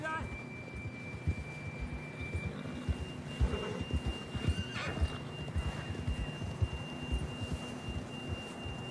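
A horse whinnies amid clip-clopping hooves in Red Dead Redemption 2, with a thin electronic tone and soft game background music underneath.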